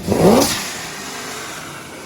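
The Bald Eagle Machine, a car making over 1,000 horsepower, revs hard once on a dyno. A loud, close engine roar climbs in pitch, then fades into a steady, roaring wash of air and engine noise.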